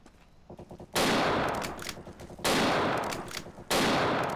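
Sniper rifle fire in a video game: three loud, sharp shots spaced about a second and a half apart, each followed by a ringing, decaying tail, with quieter mechanical clicks between.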